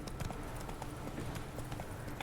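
Hooves of a horse clip-clop steadily in The Witcher 3 video game, a brisk repeated rhythm of soft thuds fairly close by over game ambience.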